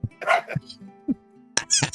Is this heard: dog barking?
yes